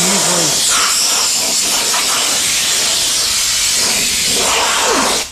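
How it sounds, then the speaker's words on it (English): Compressed air blasts steadily across a fiberglass surface being prepared for filling and gelcoat, a loud continuous hiss that holds for about five seconds before cutting off. "follow that with a little bit of compressed air"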